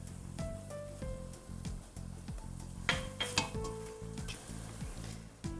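Chili and dark curry powder sizzle as they fry in browned coconut for a Sri Lankan flake shark curry, a steady close hiss with occasional spoon and pan clinks.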